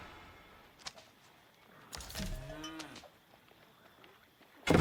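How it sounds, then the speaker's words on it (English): A cow moos once in the strategy video game Age of Empires, a low, drawn-out call about a second long. It sits quietly in the game soundscape with a few faint clicks around it. "The cow pops out. You can hear him mooing."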